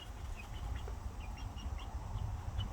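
Several chickens on a farm clucking softly at a distance over a constant low outdoor rumble, with brief scattered calls and no talk.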